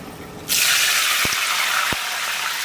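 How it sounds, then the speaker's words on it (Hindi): Water poured into a pot of garam masala spices while cooking rice, a steady loud gushing pour that begins abruptly and continues to the end with a couple of brief clinks. "अब हम इसमें ऐड करेंगे पानी।"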